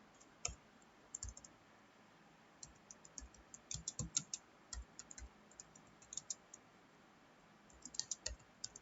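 Keys clatter on a computer keyboard while an HTML program is typed into Notepad, quiet irregular bursts of clicks with short pauses between words, close and soft in a hushed room.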